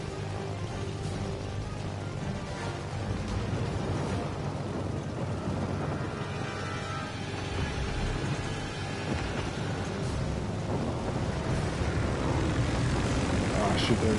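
Carrier aircraft fly in World of Warships Legends with a steady propeller-engine drone running throughout, loud and continuous under the game's other noise, while a player talks over it.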